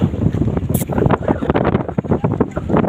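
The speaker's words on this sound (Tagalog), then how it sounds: "Mahangin dito guys sa Japan, mahangin." Strong gusty wind outdoors along a road in Japan buffets the microphone with loud rumbling bursts throughout, no voices standing out.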